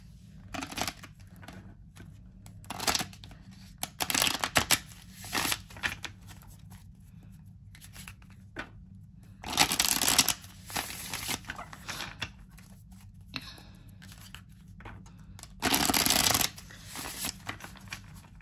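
A Light Seers tarot card deck is shuffled by hand in repeated crisp riffling bursts separated by quieter pauses with faint handling rustles, close and clear, with no voices.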